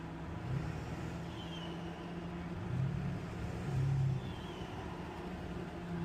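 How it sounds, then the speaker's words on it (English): Modified 7.3 Powerstroke diesel truck with upgraded turbo, intake and piping idling and rising in a few short revs, a steady low engine drone swelling at intervals with faint turbo whistle above it, no talk. "But you can really hear that turbo."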